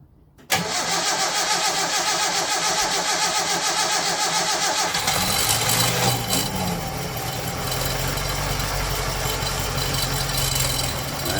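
A 1968 Datsun 1000 shed find cranks briefly and fires into a loud, steady running engine that is heard up close. It settles into a rough, rumbling idle for the rest of the clip.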